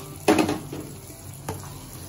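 A spoon stirs sweet pongal with dry fruits and ghee in a pan on the stove, giving a sharp scraping stir followed by a softer second scrape against the low hiss of cooking.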